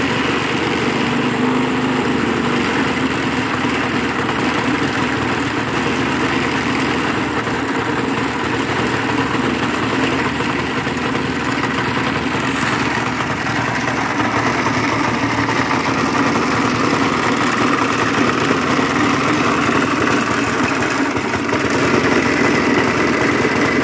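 A petrol lawn mower with an overhead-valve engine, a Trapp or Husqvarna model that is smoking, runs steadily and loud close by for the whole stretch, its even drone never letting up.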